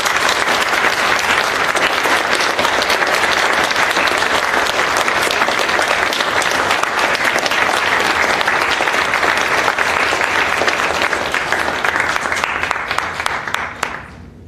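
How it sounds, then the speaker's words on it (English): Sustained audience applause for speakers at a community talk on Palestine, a thick even wash of clapping lasting over ten seconds before tapering off at the end, no talking. "I think everybody should give them a round of applause."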